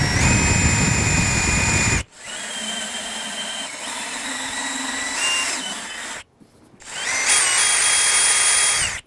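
A step drill bit, shaped like a Christmas tree, bores through a Can-Am Spyder F3 LTD top case in loud whining bursts that rise and drop as the cutting load shifts, broken by two short pauses.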